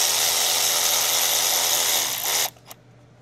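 A power tool drives the throttle body bolts on a Cadillac ATS-V's 3.6L twin-turbo V6 (LF4), whirring loudly and steadily up close for over two seconds before cutting off, then a brief final burst.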